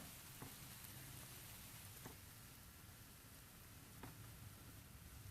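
Freshly watered potting soil in a cedar pot crackles and fizzes, a very faint, steady hiss sprinkled with tiny pops and a few slightly sharper ticks, heard close with no voices.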